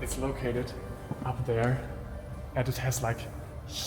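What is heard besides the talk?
No everyday noises stand out.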